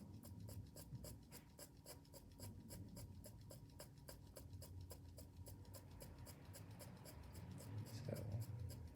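A pencil or makeup needle sweeps back and forth in quick, steady shading strokes during permanent makeup practice, a faint rhythmic scratching that repeats evenly throughout.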